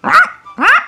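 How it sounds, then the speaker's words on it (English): A dog gives two loud, close barks about half a second apart, each short and sharp, with no other sound around them. "But, Luigi, that's a dog, not a cow"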